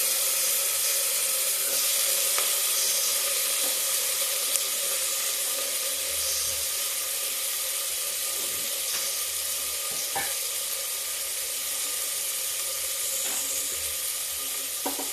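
Potatoes and onion fry in a pan with a steady, even sizzle throughout, broken only by occasional faint clinks and stirring scrapes, no voices.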